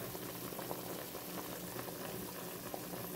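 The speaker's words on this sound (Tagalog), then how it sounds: "Kumukulo na siya." Native chicken adobo boiling steadily in a pot, a constant close bubbling and popping with no voices.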